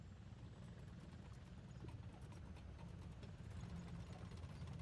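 An enemy helicopter in the Garry's Mod video game gives a steady, low rotor thrum with a fast chopping pulse, continuous and fairly faint throughout.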